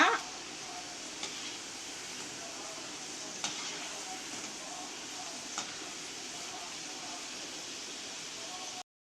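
Wheat snacks fry in hot oil while being stirred, a steady soft sizzle with a few faint clinks from the utensil.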